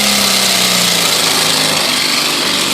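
A small lawn mower engine, being converted to run on steam, fires up and runs steadily close by, its buzzing rattle continuous and loud for the whole stretch with no voices.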